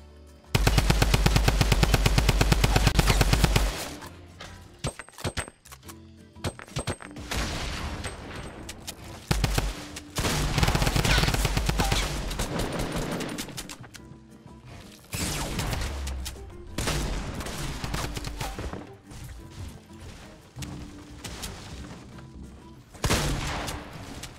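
Blue drum gun in Fortnite Battle Royale firing long, loud rapid-fire bursts, close and relentless, broken by short pauses before the shooting resumes.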